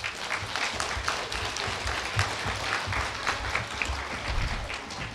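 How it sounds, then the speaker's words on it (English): A studio show audience breaks into dense, sustained applause, with many hands clapping together in a continuous, even roar. "We also ask you to applaud generously when Weezy comes up with the applaud sign."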